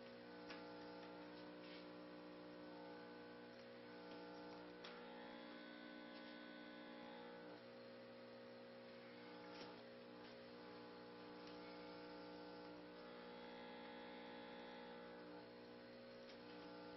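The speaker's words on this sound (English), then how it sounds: "You can hear the pump in the back humming" A small pump on a workbench holds a steady, faint electrical hum with a soft ticking underneath, unchanging for the whole stretch.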